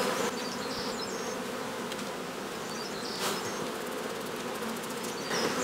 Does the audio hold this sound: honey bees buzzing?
yes